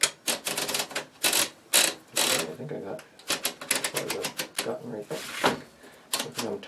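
A Burroughs Class 1 adding machine clatters with bursts of sharp mechanical key strikes, quick runs of clacks separated by short pauses, close by, with some speech mixed in.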